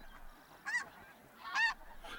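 Snow geese arriving at Arctic breeding grounds give two clear honking calls, a shorter one and then a louder one, with a faint third starting at the end. The calls sound moderately distant over quiet open air.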